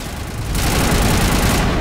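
Sustained machine gun fire from Mass Effect, a dense loud burst that starts after a brief lead-in and rattles on continuously for over a second before cutting off.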